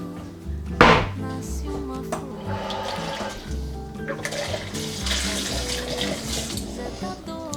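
Tap water runs into a bowl in a kitchen, a steady close rush of flowing water with a brief knock near the start, heard without talk.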